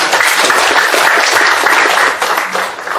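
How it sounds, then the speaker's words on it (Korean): Loud, dense applause from an audience at a lecture fills the whole short stretch, steady and close, tapering only slightly at the end. "다시 한번 박수하고"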